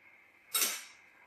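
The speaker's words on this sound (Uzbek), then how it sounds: "Qoshiq bilan to'g'rilab olamiz." A spoon scrapes across grated potato in a dish, one short close scraping stroke over a quiet background hum.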